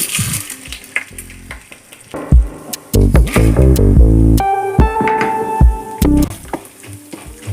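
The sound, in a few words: chana dal and urad dal frying in hot sesame oil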